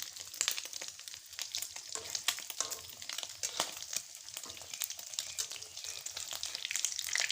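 Egg-dipped khanom khaeng, Thai steamed rice-flour cakes, fry in hot oil with a bright, crackling sizzle full of sharp pops and spits, continuous and close, no voices.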